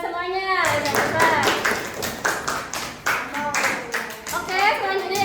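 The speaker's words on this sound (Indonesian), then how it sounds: "Tepuk tangan dulu buat semuanya" Classroom of children clapping for presenting groups, a patterned rhythmic clap with sharp hand strikes and children's voices in between.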